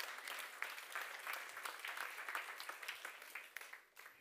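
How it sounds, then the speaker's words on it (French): Church audience applauding a four-year-old girl during a sermon, a dense, steady crowd clapping that fills the whole stretch at moderate volume, with no voices over it. "On peut applaudir."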